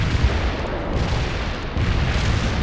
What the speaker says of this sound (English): Heavy strike inbound.